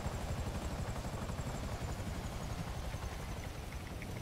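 A helicopter flies in GTA 5 Online, its steady rotor and engine roar filling the scene at constant loudness with no break and no voices.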